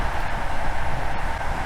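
Inside a moving passenger train carriage bound for Kraków, a steady, even rumble of wheels and running gear fills the nearly empty car, with no voices.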